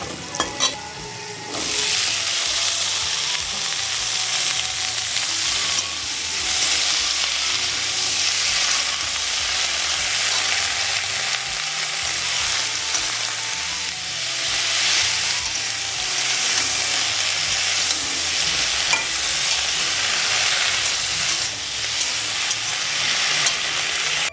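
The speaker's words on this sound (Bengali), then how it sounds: "আলুগুলো প্রায় ভাজা হয়েছে এবারে লাউ শাকগুলো দিয়ে দেবো" Potatoes with bottle gourd greens fry in a pan, a continuous loud sizzle broken by repeated scraping stirs of a spatula, close up and without speech.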